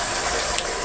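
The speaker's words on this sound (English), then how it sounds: "I'm going to go ahead and just fill this up with water" Water pouring from a tap into a large canning pot, a continuous dense rushing hiss, close and loud, with no break.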